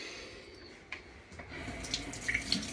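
Tap water runs while something is rinsed under a kitchen faucet, with a steady splashing flow and a few light knocks and clinks close by during apple and pear compote making.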